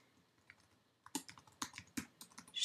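Typing on a computer keyboard: a few isolated taps, then a quick irregular burst of close, crisp keystrokes, fairly quiet with no voices.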